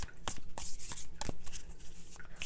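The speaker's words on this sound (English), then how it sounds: "shuffling around cards is really challenging" Playing cards are shuffled with quick riffling bursts and soft slaps, close and crisp, with no talking.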